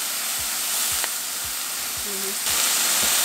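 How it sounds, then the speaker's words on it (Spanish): Shrimp frying in hot oil in small batches, a loud, continuous close sizzle with steady hiss, joined by a few soft clinks, heard alone without talk. "Ya que el aceite está caliente, vamos a poner los camarones a cocinar."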